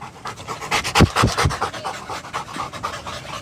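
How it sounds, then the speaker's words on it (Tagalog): A dog named Rocky pants rapidly and loudly close by, with quick rhythmic huffing breaths continuing through the whole stretch. "Hingal ka na naman."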